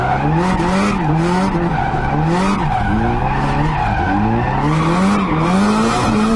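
Adam LZ's Nissan 240SX drift car howls close and loud, its engine note rising and falling while the tires squeal and skid almost without pause.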